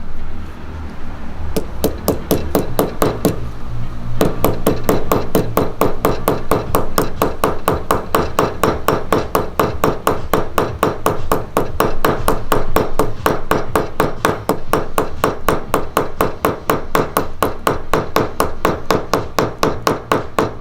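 Steady rapid hammer blows on a sterling silver rivet in a pair of earrings, a fast even metallic tapping that runs nonstop and loud at close range, with a brief pause early on.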